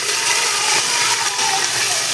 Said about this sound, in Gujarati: તેલ આવી ગયું છે ને આપણે શાકભાજી નાખી દઈએ